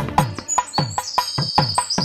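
Sparrows chirp in quick repeated bursts through a Telugu children's nursery rhyme, the bright tweets layered over steady rhythmic music with a thin sustained tone running behind them.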